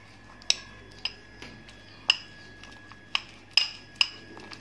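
A utensil stirring a starch and water mixture, giving a series of sharp clinks against the bowl at an irregular pace, about seven strikes, close and fairly quiet.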